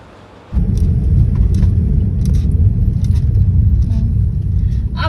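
Heavy traffic on a Himachal highway: a loud, steady rumble of vehicles and engines starts abruptly after a brief quiet moment and continues densely, with faint clicks and a murmur of voices.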